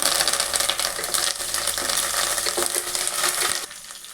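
Curry leaves, coriander seeds and cumin hit hot oil in a pan, releasing a loud, dense, crackling hiss that holds steadily for several seconds before easing off near the end.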